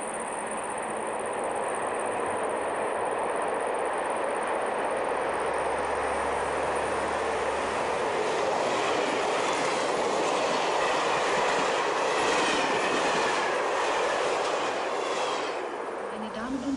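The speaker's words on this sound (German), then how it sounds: "Im Pegnitztal rollt ein Güterzug." A freight train pulled by a Ludmilla diesel locomotive rolls through the Pegnitz valley, a loud sustained rumble of wagons with rhythmic wheel clatter and a touch of squeal, steady and close throughout.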